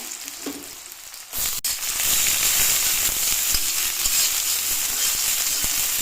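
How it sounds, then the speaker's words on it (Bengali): Potatoes hit hot oil in a wok with a short clatter, and a loud, steady sizzle of frying then carries on without a break to the end. "কড়াই গরম করে তেল দিয়ে দিয়েছি, এখন আলু দিয়ে দেবো।"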